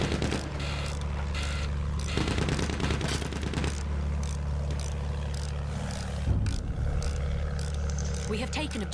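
Rapid bursts of video game gunfire crackle in clusters over a steady droning engine-like background, with a sharp louder burst midway and quieter shots scattered throughout.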